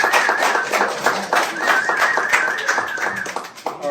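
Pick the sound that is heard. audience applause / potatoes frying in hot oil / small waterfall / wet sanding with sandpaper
audience applause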